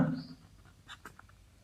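Chalk or marker scratches on a board in a classroom during a physics lesson, a few brief, soft strokes in quick succession after a voice is briefly heard at the start.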